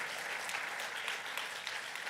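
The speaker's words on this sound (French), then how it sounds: "on peut l'applaudir quand même." Brief burst of dense audience clapping at a comedy radio show recording, a steady, fairly quiet applause wash with no voices over it.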